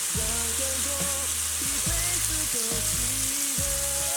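Beaten egg hits a hot pan of green peppers and sizzles loudly and steadily, a dense close frying hiss with faint tonal squeaks and clinks.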